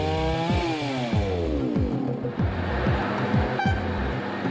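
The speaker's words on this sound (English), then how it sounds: "loggers go in with chainsaws and cut branches and limbs off the logs" Chainsaws bucking logs, cutting branches and limbs off felled timber, with a whining engine that revs and drops in repeated cutting strokes, loud and close.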